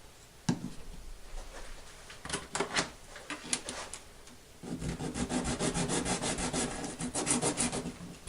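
Sanding a small model aircraft control horn for glue adhesion, heard as soft, close scratchy rubbing strokes in irregular bursts that grow into a denser, steadier back-and-forth scraping rhythm.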